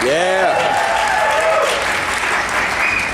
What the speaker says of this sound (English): So another big round of applause for Mr.